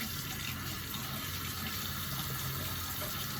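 Tap water running steadily into a sink while rinsing after brushing teeth, a constant close splashing flow with no voices.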